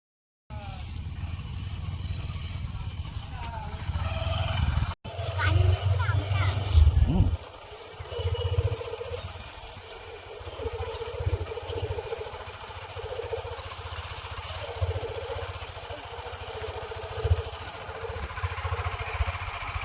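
A motorcycle carrying two riders heads down toward the Damodar River, its engine a steady low rumble that holds throughout with slight rises and falls, heard from near by and partly under talk.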